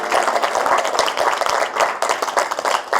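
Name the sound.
applause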